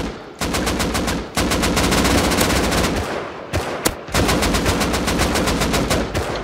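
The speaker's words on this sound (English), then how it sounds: "Shoot him, shoot him." Rapid automatic gunfire from the video game Rust, an M249 among the weapons in play, loud and close, in long sustained bursts broken by short pauses.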